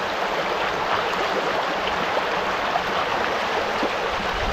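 A strong, fast river current rushes loudly and without pause around someone standing midstream. The dense roar of the water fills the whole span and no voices are heard.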